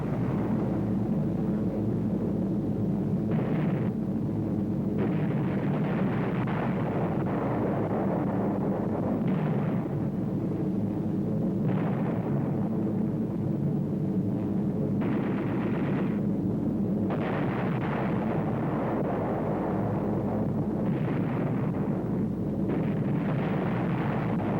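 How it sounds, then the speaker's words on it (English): Wartime bombing and gunfire, with parachute-borne delayed-action bombs, as continuous loud, dense rumbling barrage with repeated bursts and blasts throughout, no voices. "bombs attached to parachutes,"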